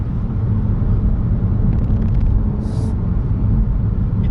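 A Volkswagen Golf GTI engine in sport setting produces a steady, deep low rumble that stays fairly even, with no voices over it.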